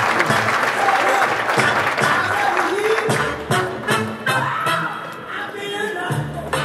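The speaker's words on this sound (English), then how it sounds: "Can we give this lady a massive round of applause" An audience at a sales-training event breaks into loud, sustained applause, dense clapping that holds steady before thinning slightly toward the end.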